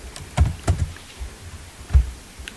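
Keys tapped on a computer keyboard while typing a spreadsheet header, a handful of soft irregular clicks close by with quiet pauses between them.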